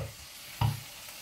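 Swiss chard seasoned with salt and pepper cooks in a pan, giving a soft steady sizzle with one brief louder stir or clatter midway, close and alone.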